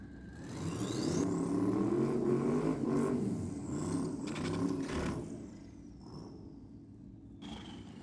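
Ford Capri drag car loaded with heavy weights in the back at a dragway meet, its engine rumbling and revving up into a loud rising whir, then easing off and fading as it pulls away.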